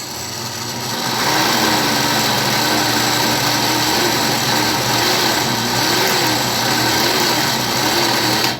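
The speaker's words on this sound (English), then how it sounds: "So let's just give that a quick spin just to get it mixed in." An Oster blender whirs loudly through homemade peanut butter, motor starting after a short pause and then running steadily at high speed with a wavering pitch until it stops at the end.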